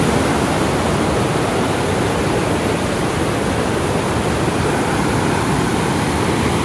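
Rushing river water near Turtuk village in Ladakh, a steady broadband roar that stays loud and even throughout, with no voices.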